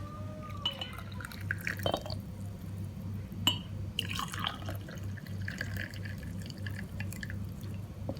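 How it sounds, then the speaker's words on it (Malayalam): Black tea trickles into a pot during karakki chaya preparation, heard as quiet, sporadic drips and short splashes over a low steady hum. "3/4 ഭാഗം നമ്മൾ ഈ കട്ടൻ ചായ ഇതിലേക്ക് ഒഴിച്ചു കൊടുക്കും"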